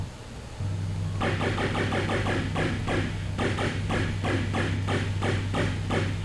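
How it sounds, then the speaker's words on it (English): A tractor beam in the space game Main Sequence drags in shot-up debris: a steady low electronic hum kicks in, then a rapid, evenly pulsing throb runs on top of it without pause. "tractor beam will pull in what I've shot up here"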